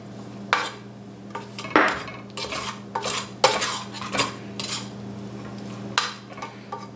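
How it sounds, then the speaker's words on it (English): A spoon stirs chili-o seasoning mix into venison chili in a pot, with irregular metallic clanks and scrapes against the pot's sides over a low steady hum. "Let's take the chili-o mix. Be sure we add all of it in. Stir it in real well."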